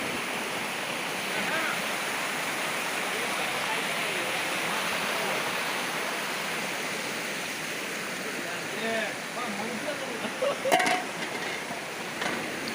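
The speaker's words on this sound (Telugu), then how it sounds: "ఈ వాటర్ అంతా ఆ పవిత్రమైన ప్రదేశాల నుండి ఇటు దిగువకు పారుతుంది." Gunjana waterfall's water rushes down in a steady, broad roar heard close by, with a few brief clatters near the end.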